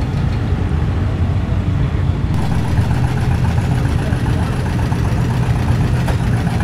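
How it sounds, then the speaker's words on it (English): An old farm tractor with a small gasoline engine runs at an outdoor antique gas tractor show in Michigan, a loud, steady, low chugging beat that carries on without a break. "I guess this is a little gasoline engine."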